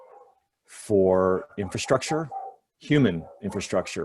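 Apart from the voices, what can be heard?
dogs barking in the background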